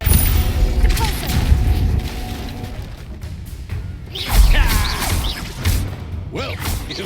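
Spells land in the game Hogwarts Legacy as a dense run of booming thuds, whooshes and crackling bursts that come in waves. A voice is partly heard under the clash.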